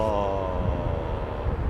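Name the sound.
Boeing 787 Dreamliner aircraft at Heathrow Airport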